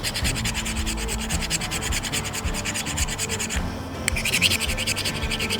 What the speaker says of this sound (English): we'll go with the ferro rod that comes with the kit and see how we get on with that and with the scraper that comes with it